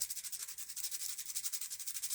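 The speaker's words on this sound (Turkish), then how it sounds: "önce yapacağımız yeri küçük bir zımpara yardımıyla" Steady rhythmic scratching of sandpaper rubbing back and forth, quiet and close, with no voices.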